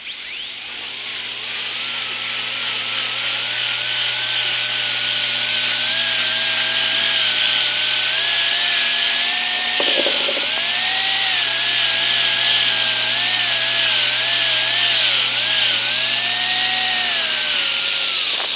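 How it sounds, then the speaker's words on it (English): Dental handpiece spinning a Robinson wheel with Sure Shine to polish a gold inlay, a continuous high whine with gentle pitch wavers as pressure changes, close and steady throughout. "go to the tooth using a fairly firm pressure and holding the inlay securely, begin to polish"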